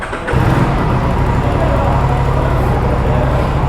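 An Aprilia RS457's inline two-cylinder engine running close by, a loud, steady low rumble that starts abruptly and holds constant.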